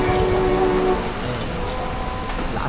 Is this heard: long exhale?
no